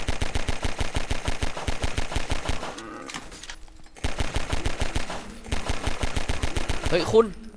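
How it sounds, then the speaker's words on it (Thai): Rapid automatic gunfire in Garry's Mod rattles out in fast, even bursts. Two long volleys are split by a short quiet gap, and a third burst follows, all close and loud. "มว่ายิงพวกนี้มันเปลืองกระสุนว่าเปล่าอ่ะ"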